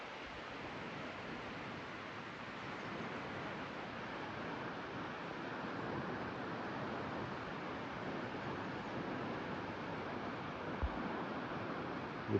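The Kali Gandaki river flows near Jomsom in Mustang as a steady, soft rushing wash that never breaks, fairly faint and distant, with no voices.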